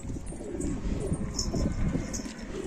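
A pigeon coos softly in a loft, low repeated murmuring calls at moderate distance with faint background noise.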